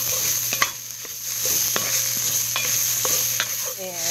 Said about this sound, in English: And just keep stirring and stirring.